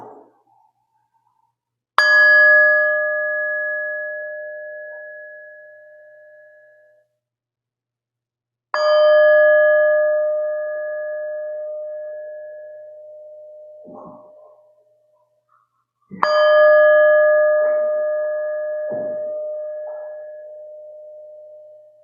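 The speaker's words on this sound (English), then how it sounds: "prepare to begin worship as we hear the sound of the bell" Three resonant bell strikes opening a worship service, spaced several seconds apart, each ringing out clearly and decaying slowly in a quiet room.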